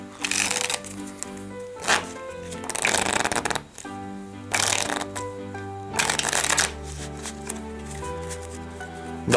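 A deck of Citizens playing cards shuffled and spread by hand, giving bursts of riffling and sliding card sounds between short pauses, with faint background music underneath.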